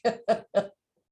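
Three short, close coughs in quick succession, then silence.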